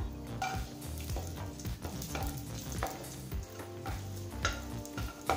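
Cashews, almonds and raisins fry in a pan with a steady, soft sizzle while a spoon stirs them with light scrapes and taps at irregular intervals; no voices.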